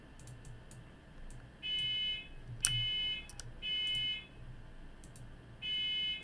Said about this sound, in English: I think my alarm is going off, or something is going off.